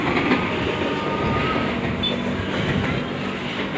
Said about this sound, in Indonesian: Kereta lewat nih. Ini KRL-nya menuju ke Manggarai doang tuh tujuannya.